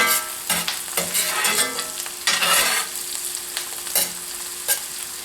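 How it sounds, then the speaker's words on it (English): Onions, mushroom and garlic fry in a pan for a braised chicken dish, giving a steady close sizzle broken by several louder bursts of stirring scrapes. "we have our onions, mushroom, and garlic cooking away"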